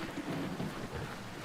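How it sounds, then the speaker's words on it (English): Rain and thunder from the video game Star Explorers, an interstellar dungeon crawler: a steady wash of rainfall over a low, continuous rumble, loud and constant without pause. "It's painful rain."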